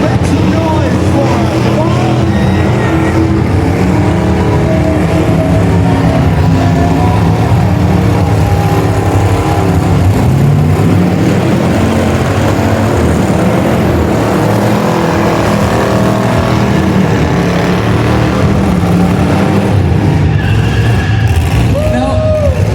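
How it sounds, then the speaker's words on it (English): Several cars doing dueling burnouts at a car show in Tulsa, engines roaring loud and sustained with a continuous tire-squeal wash, crowd noise and voices mixed in throughout. "dueling burnouts only in Tulsa"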